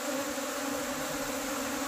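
A new swarm of bees arriving, their buzz a dense, steady drone that fills the air without pause, loud and close throughout.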